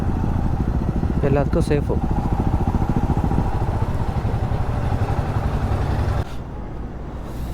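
Motorcycle engines rumble loud and close while riding through the Western Ghats in monsoon, pulsing steadily before dropping in level near the end, with a voice speaking briefly over them.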